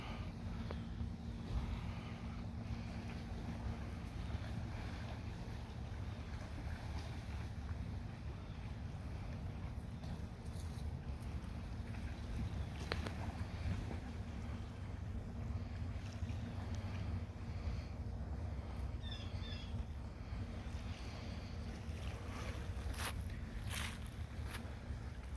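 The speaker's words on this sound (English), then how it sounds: "There was another speedboat." A speedboat out on Lake St. Clair, heard as a steady low motor drone that runs the whole time, mixed with wind buffeting and water wash, fairly close.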